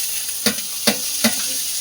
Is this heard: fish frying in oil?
yes